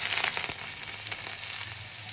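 Garlic tossed into hot oil for a jackfruit and prawn curry sizzles loudly and continuously from start to finish, with no voices over it.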